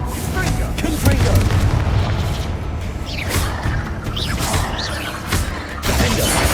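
Confringo explosive spell blasts in the Hogwarts Legacy video game, a loud, dense stretch of booming explosions and crashing debris mixed with an excited voice shouting in the game.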